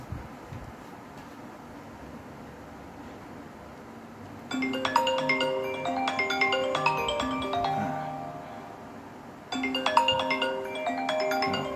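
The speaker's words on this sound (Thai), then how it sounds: "เดี๋ยวลองโทรเข้าอีกรอบหนึ่งนะครับ" An iPhone rings with an incoming call, playing a bright, chiming melodic ringtone that starts partway through, repeats once after a short break and stays fairly loud with no speech over it.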